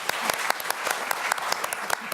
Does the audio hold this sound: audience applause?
yes